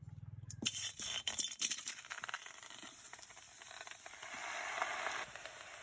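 Chopped tomatoes land in a hot wok for tomato sauce, with a clatter as they drop in, then a quiet, steady sizzle and hiss that swells slightly toward the end.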